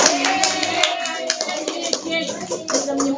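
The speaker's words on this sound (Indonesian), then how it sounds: "Tepuk tangan buat Nur." A classroom of students claps for a classmate, a steady patter of many hands that carries on for the whole stretch, close and fairly loud.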